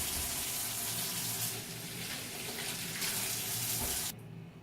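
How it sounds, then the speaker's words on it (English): About 1.5 kg of apples are washed under a running kitchen tap for a Polish apple cake, a steady loud gush of water with no talk, cut off abruptly near the end. "we will take about 1 kilogram and 500 grams of apples and wash them thoroughly and nicely with water"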